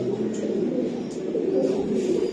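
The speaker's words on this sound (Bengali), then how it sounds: "ইন্ডিয়ান অরিজিনাল হারা কবুতর" Indian Hara pigeon, an original Indian breed, cooing up close in a steady, continuous low murmuring coo that runs throughout with no talk over it.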